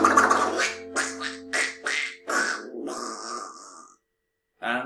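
A singing voice imitates a duck in a children's farm-animal song, giving a run of rhythmic nasal quacks that fade out, followed by a pause and the start of the next line.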